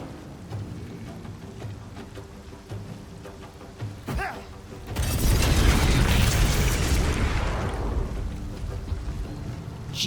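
A chain-reaction blast set off by Alchemist's Fire in the Baldur's Gate 3 video game: a sharp pop, then a loud, sustained roaring burst of fire and explosions that rumbles on for several seconds.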